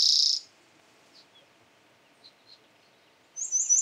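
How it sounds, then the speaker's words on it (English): Dry, buzzy trill song of a male spotted towhee in West Coast scrub at Juniper Hills, two short bursts at the start and end, moderately close over a quiet background with a few faint distant chirps. "There's a pair of towhees here now ahead of us, and the male's beginning to sing."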